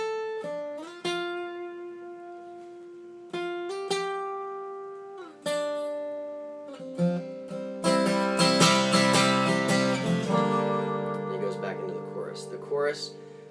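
An acoustic guitar plays a lead line in real time, starting with clear, separate plucked notes and moving into a fuller, busier, strummed-sounding passage that rings out.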